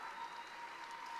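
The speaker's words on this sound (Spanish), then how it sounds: "Un aplauso para doña Pura." Applause for a provincial governor at a youth excellence award ceremony, a steady wash of clapping from an audience that stays at an even level, with no pauses, for just over a second.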